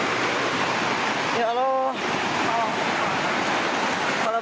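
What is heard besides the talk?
flash flood water rushing through a village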